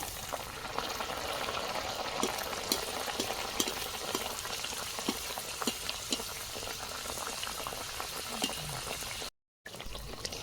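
Radhaballavi flatbread deep frying in hot oil, a steady dense bubbling sizzle that runs continuously up close, with a brief dropout near the end.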